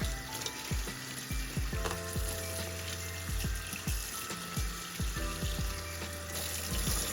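Lukewarm tap water filling lipgloss tubes and being dumped out at a sink, a continuous close splash and gurgle with repeated small pouring knocks.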